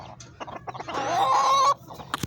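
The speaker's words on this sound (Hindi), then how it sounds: "इधर हैं हमारे बड़े प्यारे प्यारे मुर्गे।" A rooster lets out a drawn, strained call amid a cluster of short clucks and scratchy movement nearby.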